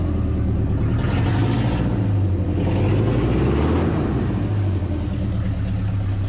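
Dodge truck with a 440 engine running rough with a dead spot, a deep, continuous rumbling idle that swells into a labored rev and sags back, close and loud, with no talking.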